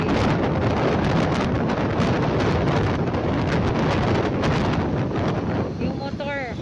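A motorcycle on a road at night on a trip to Batangas comes through as a continuous loud rush of wind buffeting the microphone, with engine drone buried underneath and no pauses.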